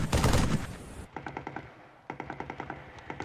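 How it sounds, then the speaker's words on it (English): Gunfire from the Halo 3 video game: a loud burst of heavy, close shots opens, then two rapid strings of sharp automatic fire rattle off in quick, even rhythm after a brief pause. "beefy gunfire being fired next to me."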